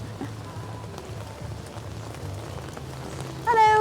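Steady light rain patters on the street during a walk in central London, a soft constant hiss with a faint low hum beneath it and a brief higher tonal sound at the very end.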